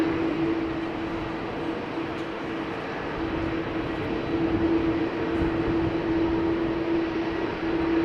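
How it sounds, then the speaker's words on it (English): A 21-year-old Tarom Boeing 737-700 on a wet, rainy day at Amsterdam Schiphol gives a steady, continuous engine roar with a sustained tonal hum, fairly constant in level throughout and no voices. "Tarom flight 362, going to Bucharest, 737-700, 21 years old, first flight October 2003."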